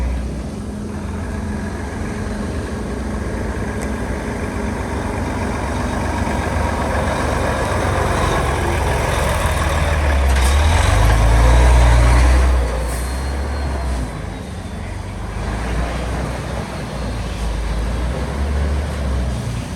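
A 2007 Volvo grain truck loaded with wheat rumbles steadily as it drives in to unload at a dusty grain yard, its deep engine drone swelling louder midway through before settling back to a continuous idle.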